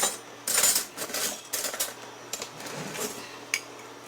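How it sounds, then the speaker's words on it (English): A fork mixing egg with salt in a bowl for a Filipino-style eggplant omelet, giving light irregular clinks and scrapes against the bowl, fairly faint, no talking. "get you a fork and mix that egg together with the salt"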